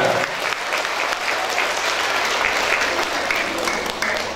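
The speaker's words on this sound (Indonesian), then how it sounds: "Tepuk tangan sekali lagi." Audience applause at a student motivational event with a magic act, dense and loud clapping from a crowd throughout, with a voice faintly audible beneath.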